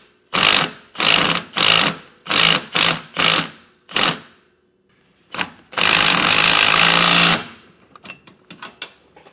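A power tool tightens leaf spring suspension hardware on a 2020 Grand Design RV during a Roadmaster Comfort Ride kit install, with seven short loud bursts, a pause, two brief blips, then a sustained two-second run before fading to quiet clicks.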